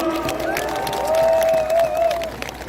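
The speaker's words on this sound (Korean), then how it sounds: "국민 여러분께 다시 한번 큰 박수 부탁드립니다." A crowd at an outdoor political campaign rally in Gwangju responds with scattered clapping under drawn-out cheering and raised voices, moderately loud and continuous throughout.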